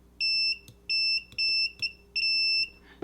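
A high, piercing electronic tone beeps in four steady bursts with a quick click between them, signalling a short circuit on a Lumenier QAV X quadcopter build when the battery leads are connected.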